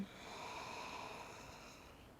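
Slow meditative breathing during a guided meditation: one soft, drawn-out breath, quiet and close, with a steady airy hiss and no talking.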